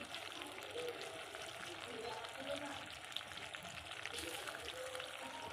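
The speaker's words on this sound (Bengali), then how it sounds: "এবার একটু হালকা করে ভেজে নেব ভালো করে।" Tomato and spices fry softly in a pan, a faint, even crackle like light rain that continues under quiet talk.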